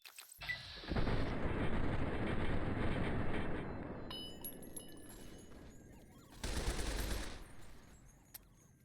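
Rapid automatic gunfire from the Tempest weapon in the Fallout New Vegas video game: a loud, sustained burst of about three and a half seconds, then a shorter second burst after a brief lull.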